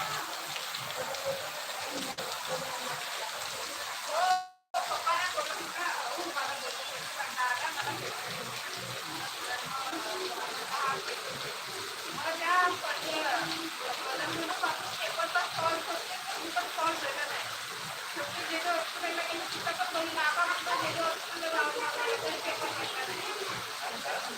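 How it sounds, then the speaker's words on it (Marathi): Steady monsoon rain in the Konkan patters across the whole stretch, a dense, even hiss with scattered drops, briefly cut by a short break near the start. "हे पाऊस आहे इकडे असा पावसाचं वातावरण"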